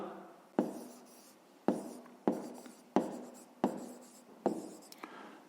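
Pen strokes on paper while a math answer in pounds is written out by hand, six distinct scratchy bursts each starting sharply and trailing off, close and alone with no voice.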